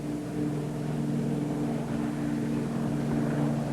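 A Convair 240 twin-propeller airliner climbing out after a short takeoff run, its engines and propellers making a steady, loud droning roar with a low harmonic hum, continuous throughout and unaccompanied by voices.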